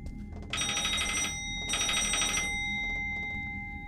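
A telephone rings in a horror video game set in a grandmother's house, giving two loud electronic bursts of trilling rings with a short gap between them, alone and close.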